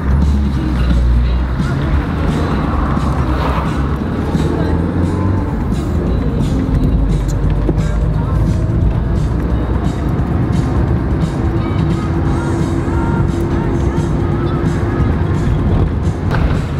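A car drives through the streets of Ksamil, its engine and tire rumble a constant close hum with road noise, while faint voices talk inside the vehicle.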